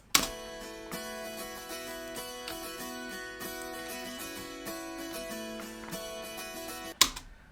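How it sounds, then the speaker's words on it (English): Acoustic guitar in Nashville tuning, played alone as a bright, shimmering country layer, with ringing high strummed chords sustaining steadily for several seconds before a sharper strum near the end. "The Nashville tuning on its own sounds like this."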